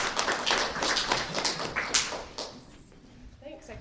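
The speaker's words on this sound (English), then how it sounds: "And give her a big round of applause." Audience applause at a poetry reading, a short round of clapping that fades out after a few seconds, with faint voices underneath.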